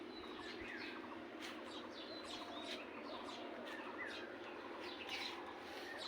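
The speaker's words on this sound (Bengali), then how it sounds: "আর এই যে পাখি ডাকে" Several birds chirp and tweet softly in the distance, scattered calls overlapping with a faint cooing beneath a quiet outdoor hush.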